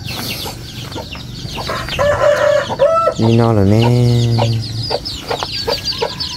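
Chickens clucking and a rooster crowing close by on a farm, one long drawn-out crow over scattered clucks while people talk and laugh nearby.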